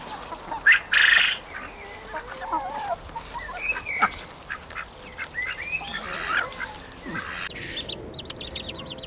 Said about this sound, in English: it also has a little duckling in there as well